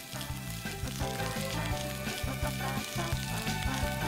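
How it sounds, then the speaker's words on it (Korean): Soaked dried watermelon radish stir-fried in a pan with bacon and garlic, a steady close sizzle of frying throughout, with a rhythmic pulsing pattern running underneath. "거기에 불린 수박 무말랭이를 넣고 한 번 더 볶은 다음"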